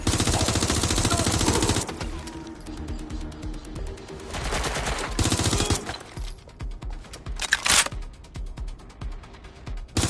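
Incoming gunfire in a combat scene, with loud sustained machine-gun bursts and rapid volleys of shots, close and intense, broken by short pauses between barrages.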